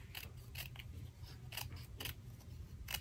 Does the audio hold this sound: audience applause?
no